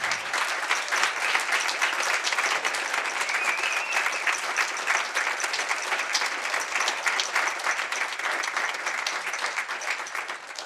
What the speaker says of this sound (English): please give Monique Austin a big round of applause